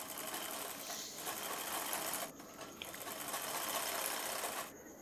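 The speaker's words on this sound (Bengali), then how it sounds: "তো এইখানে আমি সেলাই করে নিচ্ছি ফ্রেন্ডস এরকমভাবে।" Sewing machine stitching a blouse waistband, a steady close mechanical whirr of rapid needle strokes that briefly dips and resumes, running alone without talk.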